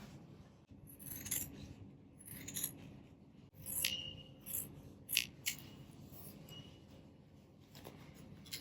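Tailor's scissors trim the outer edge of a suit collar, giving a few soft, close snips and light metallic clicks spread unevenly through a quiet room.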